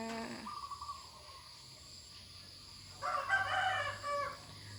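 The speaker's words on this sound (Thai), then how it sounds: "ได้ยินเสียงไก่ขันด้วยค่ะ" A rooster crows once, fairly distant, its drawn-out call rising over quiet outdoor ambience; a short bird-like call precedes it.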